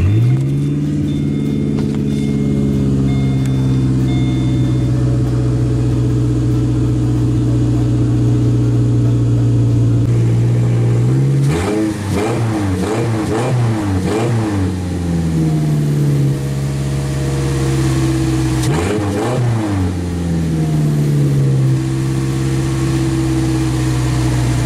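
A 2013 Subaru 2.5-litre engine runs with its exhaust disconnected, a loud, raw, close rumble that idles steadily, then revs up twice in short bursts before settling back down.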